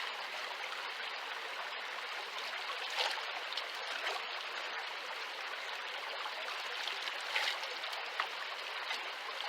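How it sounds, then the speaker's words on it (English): Steady, close rushing and trickling of stream water around big rocks being washed during gold panning, continuous throughout with small splashy peaks. "Make sure you wash off your big rocks."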